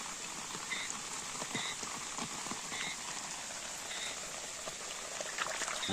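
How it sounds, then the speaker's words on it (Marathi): Rain falls steadily in the Konkan countryside during the first monsoon rains, a soft, constant hiss with scattered drops, and frogs croak faintly in the background. "पाऊस थांबत नाही"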